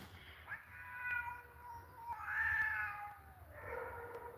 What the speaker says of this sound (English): I hear cat fight.